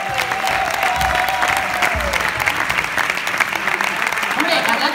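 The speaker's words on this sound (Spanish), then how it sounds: "Un aplauso fuerte para ellos." A theatre audience applauds steadily and loudly in a dense, sustained clatter of clapping, with a voice and cheers rising over the crowd.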